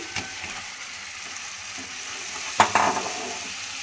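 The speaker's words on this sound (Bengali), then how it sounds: "চিংড়িগুলো অ্যাড করে দিচ্ছি" Prawns going into a hot pan for chingri malaikari give a steady close sizzle with faint stirring scrapes, then a sharp metallic clank and a brief louder spatter, with no talking.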